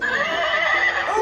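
A toy horse gives a sustained electronic neigh, loud and continuous with a wavering whinny pitch, heard alone without talk.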